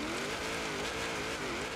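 The engine of a 1995 Chevrolet Corvette ZR-1 on a hill climb time attack roars loud and near under hard throttle, its pitch wavering as it revs between rises and dips.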